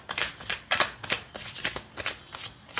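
Tarot cards being shuffled and laid out, a quick run of crisp riffling and flicking bursts in steady rhythm, close and fairly loud with no talking.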